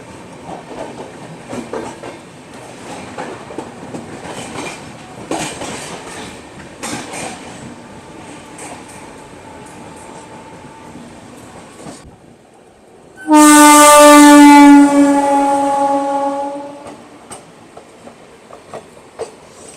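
An Indian Howrah Prayagraj Vibhuti Express passenger train rumbles steadily along the tracks, then its loud horn blares close by for about three seconds before the rolling noise settles back in.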